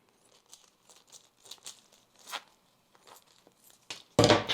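Cutting down a plastic zip bag: a run of soft crinkling snips and rustles, then a sudden loud close crackle of plastic at the end.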